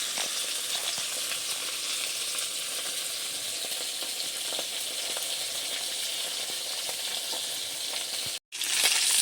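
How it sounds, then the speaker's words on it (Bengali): Large fesa fish frying in a pan, a steady close sizzle with crackling pops lasting several seconds, briefly cut by a short silence near the end before resuming. "বেশ সুন্দর করে মাছগুলো ভেজে নিয়েছি, তুলে নেব।"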